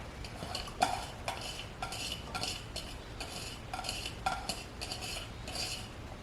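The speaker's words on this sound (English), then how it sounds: "today we're just going to go ahead and add the onion and habanero" Onion and habanero cooking in a hot pan, with a metal spoon scraping and clinking against the pan in repeated strokes over a faint background hiss, fairly quiet and close. No voices.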